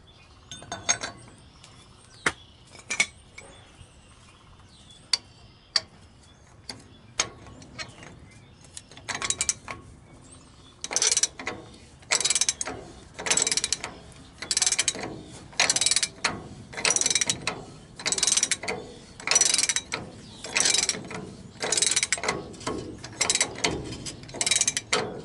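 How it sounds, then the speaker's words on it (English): Ratchet wrench with socket loosening bolts on the brake assembly of a single axle dump truck, starting with scattered clicks and metallic taps, then settling into a steady series of loud, rhythmic ratcheting bursts, close up with no talk. "So I'm going to go on ahead and use the socket."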